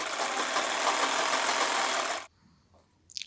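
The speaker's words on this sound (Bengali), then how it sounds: "নিচের ঝুলটা আমি সেলাই করব এখানে আমি যেমন সেলাই করছি আপনারাও সেম ওইরকমভাবে সেলাই করে নিন" A sewing machine stitching the bottom hem of a kantha cover runs in a steady close whirring buzz, then stops abruptly, leaving near silence with a faint rattle at the end.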